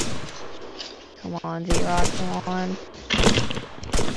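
Heavy gunfire in the military video game Arma 3, with loud bursts of rapid shots and sharp cracks close by, while someone talks urgently over the shooting.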